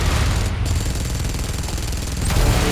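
Rapid continuous gunfire aimed at Mechagodzilla in a video game, a dense loud hammering stream of shots with no pause.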